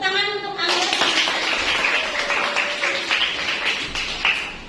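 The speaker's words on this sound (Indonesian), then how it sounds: "Tepuk tangan untuk Angga" Classroom applause rises from a group of students, a steady patter of clapping lasting several seconds, with a voice talking over the start.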